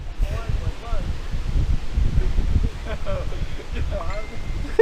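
Strong gusts at a remote bass pond before a thunderstorm roar and buffet the microphone with a steady low rumble, while someone talks over the wind throughout.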